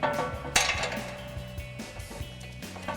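Metal exhaust support bracket on a Jeep Gladiator JT being slid back into place during a RedRock dual exhaust install, light clinks and one sharp metallic knock over a low hum, close and fairly quiet.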